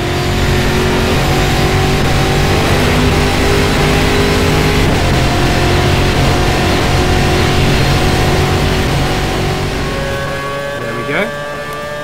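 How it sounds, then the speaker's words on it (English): A Formula Reiza open-wheel race car in the Game Stock Car 2012 racing game holds a loud, steady high-pitched engine whine for over ten seconds, then eases off near the end with a brief rising sweep. "I'm going to switch into Formula Reiza, which is basically GameStop Car's version of Formula One."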